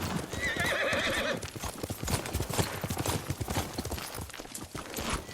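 Horse hooves clip-clop in a rapid galloping rhythm with a loud whinny near the start, in the video game Ghost of Tsushima, set in feudal Japan.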